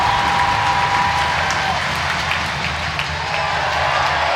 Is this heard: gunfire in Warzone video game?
no